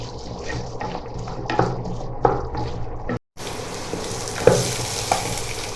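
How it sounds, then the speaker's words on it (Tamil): Yellow pumpkin pieces sautéing in hot oil in a pan, a close, continuous sizzle broken by stirring scrapes and a brief pause, no talking. "எண்ணெயில நல்லா வதங்கட்டும்."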